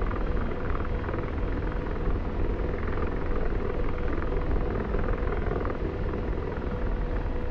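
Steady, loud rotor thrum of an AH-64D Apache attack helicopter in the DCS World combat flight simulator, an unbroken drone throughout with no voices over it.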